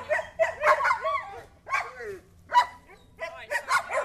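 A Rhodesian Ridgeback barks and yips in short, sharp bursts at close range, the calls broken by brief pauses, with a low hum underneath.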